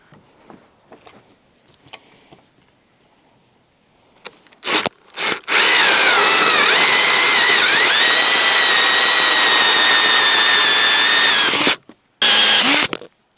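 A power drill whirs loudly and steadily for several seconds after a few short starts, its pitch shifting slightly as it bores a hole in a wooden plank in a van, then stops.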